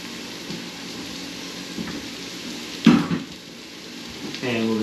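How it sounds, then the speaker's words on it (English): Onions go into a pan of hot canola oil with a steady sizzle and frying hiss, a short clattering burst as they land, and a voice starting to speak at the very end. "So we're going to start by taking our onions and we'll add them to the pan."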